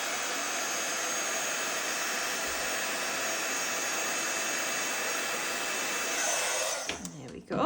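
A heat tool blows a steady, loud whirring hiss while heating embossing on a handmade birthday card, running continuously before cutting off near the end with a brief clatter.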